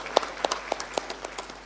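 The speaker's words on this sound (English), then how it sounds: "Let's give a round of applause, please." Sparse applause from a small audience at an African Union private sector forum, a handful of distinct claps spaced out in an uneven rhythm, fairly faint.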